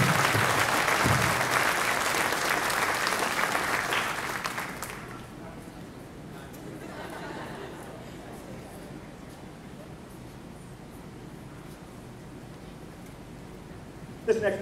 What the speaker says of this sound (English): let's give these seniors one more round of applause.